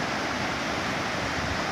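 A waterfall in Ceará pours heavily with a dense, steady roar of rushing water, loud and continuous throughout with no voices.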